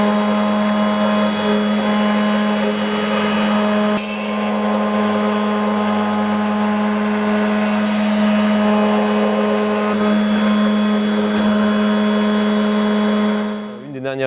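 Woodworking machine routing out the lens openings of wooden eyeglass frames, a steady loud mechanical whine with a constant motor hum, running continuously before winding down at the end.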